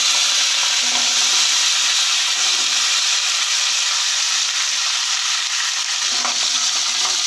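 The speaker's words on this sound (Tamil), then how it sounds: "இப்போ நல்லா வதக்கி விட்டுடலாம் ஃப்ரெண்ட்ஸ்" About a quarter kilo of peeled small onions and ten garlic cloves sauté in a pan. A loud, constant hiss of frying fills the whole stretch, with a few faint scrapes of stirring underneath. No one speaks.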